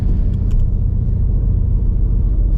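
A catless Ford Mustang GT S650 running E85 rumbles with a steady, loud low-pitched exhaust drone as it cruises through city streets at night, heard from inside the car with no talking.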